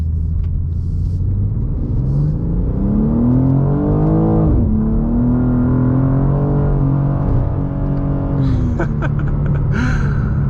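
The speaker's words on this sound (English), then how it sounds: "let's see if we can do a little slide here" A 2024 BMW M2 with rear-wheel drive revs loudly and continuously through a slide, its engine note climbing in pitch, dipping sharply, then holding steady at a high level, heard up close with no talk.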